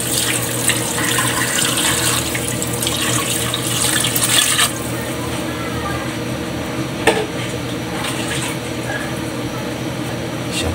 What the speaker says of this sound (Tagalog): Lagyan natin kaili ng tubig.